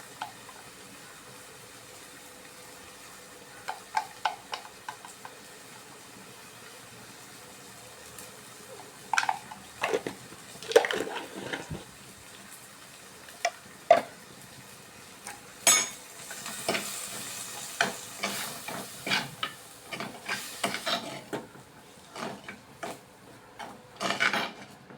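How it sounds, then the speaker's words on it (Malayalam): Spice powders such as turmeric and coriander frying in oil, stirred with a utensil: intermittent scraping and rubbing strokes against the pan over a low sizzle, sparse at first and then more frequent, close by, no voices. "എന്നിട്ട് ആ എണ്ണയിലിട്ടൊന്ന് നല്ലപോലെ പൊടിയൊന്ന് വറുത്തെടുക്കുക."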